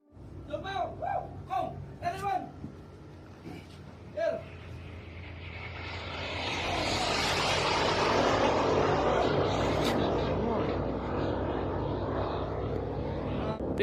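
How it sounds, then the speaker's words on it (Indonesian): A Tomahawk cruise missile passes over a merchant ship at sea, rising from behind brief voices into a loud, broad roaring rush that swells and holds for several seconds. "sebuah kapal dagang di Timur Tengah yang merekam rudal Tomahawk terbang di atas kepala mereka menuju target di Iran"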